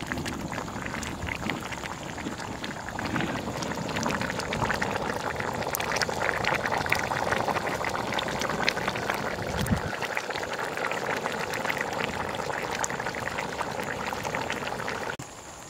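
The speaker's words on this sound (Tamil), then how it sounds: "இது கொஞ்சம் நல்லா கொதிக்கட்டும்" Steady bubbling and simmering of a thick goat intestine curry (kudal kulambu) in a pot, a continuous dense gurgle that runs evenly from start to finish, close by.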